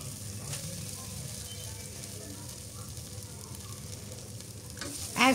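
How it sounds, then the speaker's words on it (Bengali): Masoor and moong dal fry together in a pan with a steady, soft sizzle that runs the whole way through, and a brighter clatter of stirring comes right at the end. "এই তো ডালগুলো ভেজে নিচ্ছি"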